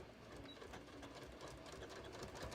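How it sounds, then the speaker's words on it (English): A sewing machine stitches a seam on a large beach tote, a continuous fast rattling whir held steady and close for the whole stretch. "I'm just going to sew right down this one"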